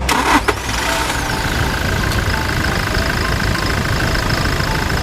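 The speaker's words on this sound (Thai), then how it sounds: "เดี๋ยวเราไปฟังเสียงเครื่องยนต์กันปะ" A 2022 Toyota Hilux Revo 2.4 diesel pickup cranks briefly and fires, then settles into a steady, close, rumbling idle with no voices.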